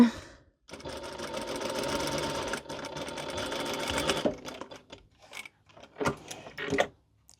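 Cat bandanas are fed through a sewing machine, which gives a steady close mechanical whir for a few seconds, then short bursts of stitching with pauses between.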